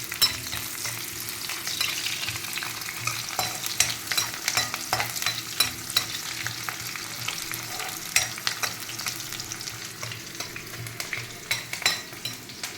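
Chopped onions fry in hot oil for a spicy chicken masala, a continuous close sizzle punctuated by frequent scraping and stirring clicks from a utensil against the pan, with no speech.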